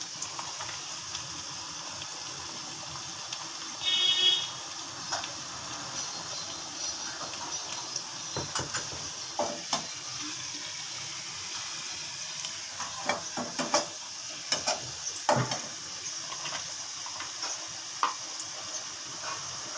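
Garlic sizzling in a hot pan of oil while cooking kochur loti, a steady close frying hiss with occasional stirring scrapes and clicks.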